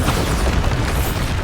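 A Bombarda blasting spell explodes in the Hogwarts Legacy video game: a loud, dense, rumbling burst that fills the whole moment with heavy booming noise.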